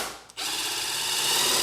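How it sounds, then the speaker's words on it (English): A power tool whirs continuously as it removes the bolt holding down the front of the gas tank on a 2006–2016 Yamaha R6 motorcycle, close and steady after a brief pause. "now we can go ahead and remove the bolt that's holding down the front of the gas tank"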